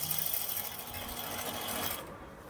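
A sewing machine stitches a boutique-style blouse, a fast steady mechanical whir close by that runs continuously and stops abruptly near the end.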